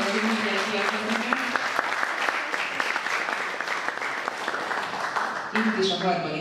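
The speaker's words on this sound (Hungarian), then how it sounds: "És akkor egy tapsot." An audience claps, a dense and steady round of applause that holds for several seconds at close range, with voices audible over it at the start and again near the end.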